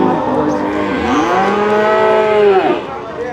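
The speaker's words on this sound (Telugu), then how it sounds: "గేదెలు" A buffalo at the Erragadda buffalo market in Hyderabad lets out one long, loud, bending moo close by, rising and falling before cutting off, over crowd murmur and market noise.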